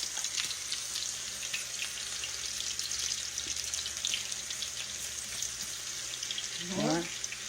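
Eggplant slices fry in a pan of oil with a steady, close sizzle that lasts throughout, and a brief voice or clatter rises near the end.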